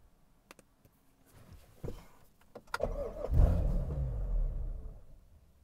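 A car engine cranks with the mass airflow filter set to zero during tuning, quiet clicks and shuffles giving way to a rising, sustained rumble that churns on without catching cleanly.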